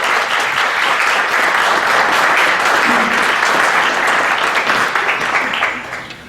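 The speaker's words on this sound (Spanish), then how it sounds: "a bienvenida al doctor Jorge Robles Vázquez, para quien pido un fuerte aplauso." A roundtable audience on gender equity applauds a welcomed speaker with dense, sustained clapping that stays loud and steady before tapering off at the end.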